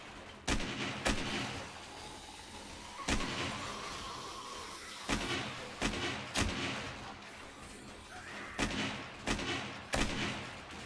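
Rifle shots with AP ammo in 7 Days to Die, about ten sharp cracks spread unevenly across the stretch, singly and in close pairs, fairly quiet, with soft ambient and movement sounds between them.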